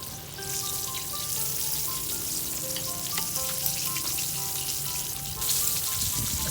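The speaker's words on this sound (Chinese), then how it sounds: "炸鸡排的时候不要随意翻面哦，要不然我们的面粉会掉出来的。" Floured chicken cutlet deep-frying in hot oil gives a steady, dense sizzle and crackle that holds close and even throughout, growing slightly louder near the end, with no talking.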